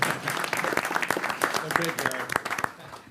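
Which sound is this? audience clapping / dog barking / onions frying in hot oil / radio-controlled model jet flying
audience clapping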